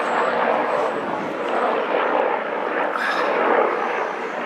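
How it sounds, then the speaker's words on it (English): A helicopter passes overhead, its steady, moderately loud rotor and engine drone carrying through gusty wind outdoors. "Helicopter."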